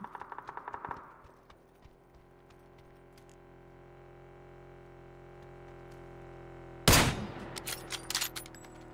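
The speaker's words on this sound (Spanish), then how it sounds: "Y gastando balas y balas y balas." Gunfire in the video game PUBG on the Rondo map: a rapid burst of shots at the start, then a quiet stretch, then a loud sustained volley with trailing rattling shots.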